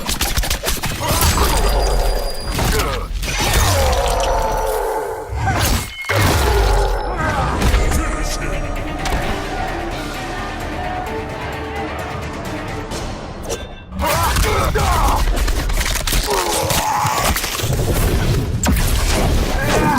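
The Kabal fatality finisher in the Mortal Kombat video game plays out as a loud, continuous barrage of booming impacts, crunching smashes, metallic whooshes and shattering hits, broken by a couple of short drops into near silence.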